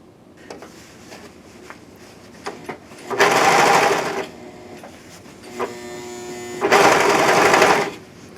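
A serger overlock machine stitches and gathers layers of fabric in two loud bursts of rapid whirring, each about a second long, separated by quieter handling clicks and no speech.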